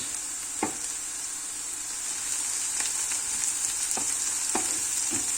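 Eggplant going into onions frying in oil for an eggplant menemen gives a steady, close sizzle broken by several sharp clacks of stirring, with no talk.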